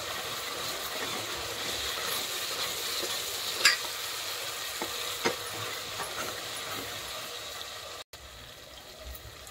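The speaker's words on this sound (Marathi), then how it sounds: "आता छानपैकी याला मस्त शिजू देऊया, याचा कच्चापणा जाईपर्यंत।" Ginger and garlic frying in a pan: a steady, close sizzle throughout, with scraping from stirring and a few sharper clinks.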